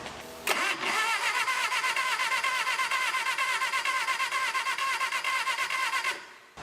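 A Bobcat skid steer turned over on the key gives a sharp click followed by several seconds of steady, rhythmic starter cranking with a whirring squeal, close and loud, stopping without the engine catching.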